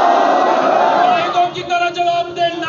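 Protest crowd in Mansehra loudly shouting back a chanted religious slogan, a massed roar of voices that swells at first and then breaks into shorter repeated shouts as it fades slightly.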